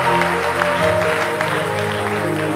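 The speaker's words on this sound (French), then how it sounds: "acclame très fort, très fort, très fort" A church congregation claps and cheers loudly at a worship service, with a dense continuous wash of applause over a steady tonal musical backdrop.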